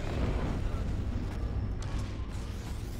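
Starship weapons fire in Empire at War, a dense rumble of booming blasts with a few sharper bursts, steady and fairly loud, and a voice talks briefly over it.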